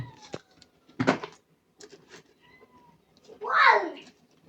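A domestic cat meows once, fairly near and clear, in a home kitchen where a family is cooking; scattered voices and small household knocks come before it.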